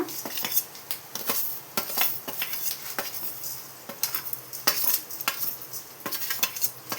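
Coriander seeds, cumin and fenugreek dry-roasting in a little oil for gongura pachadi, dominated by busy metallic spoon clinks and scrapes against the pan over a faint sizzle, close and continuous.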